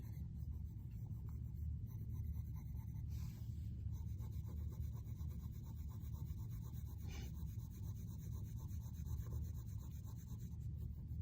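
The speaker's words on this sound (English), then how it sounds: "So I'm hardly touching the surface with the pencil" A colored pencil lightly shading paper with the barest touch, a faint, steady soft scratching and rubbing that continues throughout, close and quiet with no talking.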